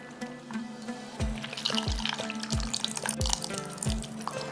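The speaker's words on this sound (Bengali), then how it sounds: "বেশ ভালো করে জলটাকে নিগড়ে নিয়েছি" Soaked soybean chunks being squeezed by hand, water dripping and splashing out in a series of distinct, regularly spaced drips and trickles, close up and fairly quiet with no talk.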